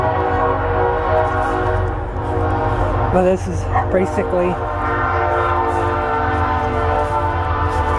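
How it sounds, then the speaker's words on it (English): A train rolls past close by with a steady low rumble throughout, and a horn sounds briefly in the middle; a person talks over it. "our train's coming through."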